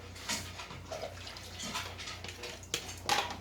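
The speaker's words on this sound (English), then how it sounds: "I'm going to pour it in here." Liquid pours and splashes into a pot, with faint clinks of metal and a low hum underneath.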